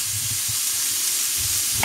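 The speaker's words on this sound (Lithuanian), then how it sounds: "Nu, mūsų jūros žuvis, ešerys kepa." Sea bass fries on a grill with a loud, continuous close-up sizzle and hiss, steady and unbroken, with a faint low rumble underneath and no talking.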